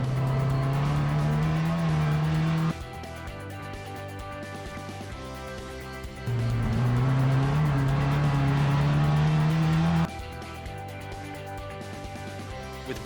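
Porsche 944 race cars at Calder Park circuit, engines droning loud as they pass, pitch rising under acceleration, dropping away and then surging again with a second car, continuous mechanical roar without talk.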